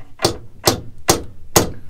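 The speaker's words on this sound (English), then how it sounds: "So if we can spread it a little bit with this chisel." A hammer strikes a chisel driven into a boat's propeller shaft coupling, four sharp metallic blows spaced evenly about half a second apart, close and loud with short ringing decays.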